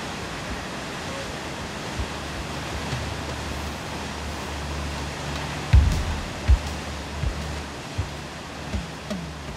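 The Petrohue waterfall in Chile roars as a broad, steady rush of water, with a few low thumps and bumps near the microphone.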